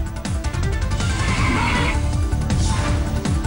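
A horse neighs at the Chetak horse festival in Narsinghpur, Madhya Pradesh, where horses march and dance; the whinny rises over a loud, dense wash of festival music and crowd noise that continues throughout.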